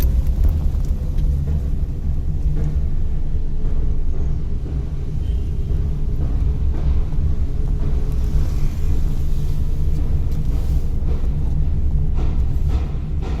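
A car rolls downhill in second gear, its engine rumbling low and loud throughout with faint knocks and shifts. The drone is close and steady, and no one speaks over it.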